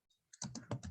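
Quiet typing on a computer keyboard during spreadsheet data entry in Excel, a short burst of four or five close, soft key clicks in quick succession after a brief pause.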